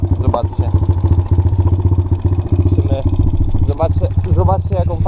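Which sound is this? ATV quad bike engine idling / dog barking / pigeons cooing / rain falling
ATV quad bike engine idling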